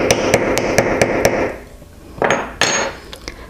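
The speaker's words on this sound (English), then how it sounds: "Put that back into position and hammer again." A hammer strikes a stone setting on a shadow box pendant in a rapid run of about eight sharp, evenly spaced metallic taps, followed after a pause by a few more separate close blows.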